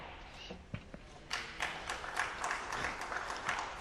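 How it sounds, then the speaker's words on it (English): Snooker crowd at the 2013 Wuxi Classic applauding Jimmy White's exhibition shot, faint scattered claps swelling into steady, moderate applause from the arena. "The crowd loving this exhibition stuff from White."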